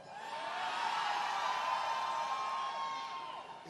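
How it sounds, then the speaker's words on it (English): A rowdy political rally crowd in Florida roars and cheers in one sustained swell of voices and whoops, rising and then slowly fading. "It's always a rowdy crowd."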